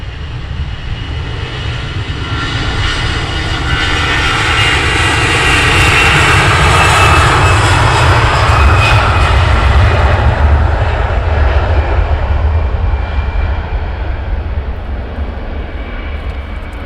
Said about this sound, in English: The delivery aircraft coming in next.